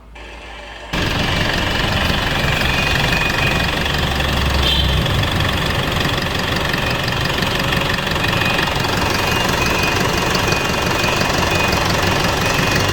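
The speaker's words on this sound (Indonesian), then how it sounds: "Jadi pertama-tama akan kita dengarkan dulu suara engine-nya." An Isuzu NLR 85 common-rail Euro 4 diesel truck engine idles steadily and smoothly, a constant close, even rumble with a light knocking texture after a brief quiet start.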